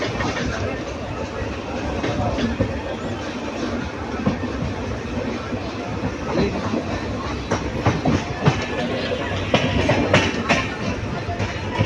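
Rail yard ambience at Erode Junction, India, with rolling train cars, a steady rumble and scattered metallic clacks and squeals, with faint voices mixed in.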